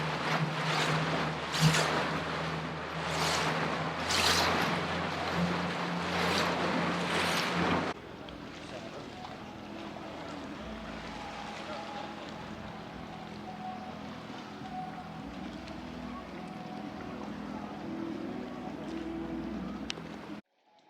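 A boat engine drones over rushing sea water and wind off Kaş, Turkey, loud at first, then a lower steady hum with wave noise continuing.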